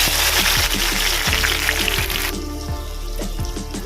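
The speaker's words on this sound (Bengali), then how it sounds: "এইবার কুচিয়ে রাখা পেঁয়াজ দিয়ে দিয়েছি" Chopped onions dropped into hot oil in a kadai: a loud, close, steady hiss and sizzle with crackling pops throughout, fading slightly toward the end.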